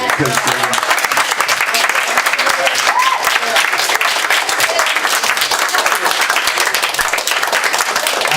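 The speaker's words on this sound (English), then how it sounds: "Round of applause for Terry." Sustained, loud applause from a large audience, dense clapping filling the whole stretch with scattered whoops and voices mixed in.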